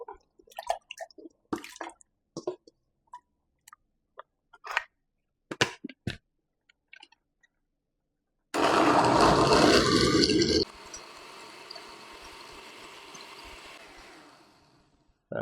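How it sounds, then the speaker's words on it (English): A countertop blender whirs loudly, blending coconut with water, starting abruptly after scattered clicks and taps, roaring for about two seconds at full power, then dropping to a steadier, quieter hum that fades out. "So I'm just going to blend the coconut now."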